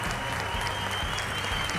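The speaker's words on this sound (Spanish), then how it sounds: "Se merece un aplauso bien merecido" Audience applause at a children's talent show grand final, an even, sustained crackle of many hands clapping at moderate loudness, with no talk over it.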